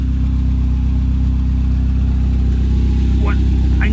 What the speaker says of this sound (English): Got an exhaust leak.